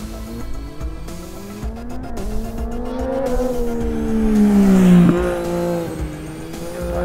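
Yamaha Niken Turbo three-wheeled motorcycle engine on a test ride, revving and rising in pitch through a turn before the throttle is cut and the note drops, loud and close with wind rush.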